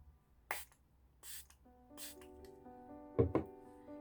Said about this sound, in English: So I'm just going to spray the spoolie.